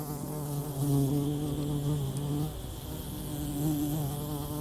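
Continuous buzzing of bees hovering close around a flowering dwarf pink powderpuff shrub, a steady droning hum that swells and dips slightly, with no other sounds.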